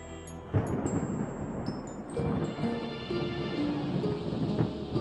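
Thunderstorm rumbling over a bridge construction site, the Millau viaduct in France, with a loud low crack partway through and continuous dense roll of thunder and rain noise throughout.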